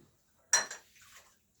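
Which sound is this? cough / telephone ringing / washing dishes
washing dishes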